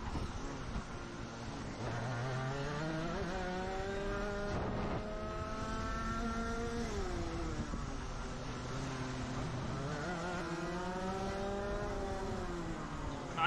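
Go-kart engines rev and whine in rising and falling sweeps as several karts race past, a steady, fairly distant racing drone with no voices heard.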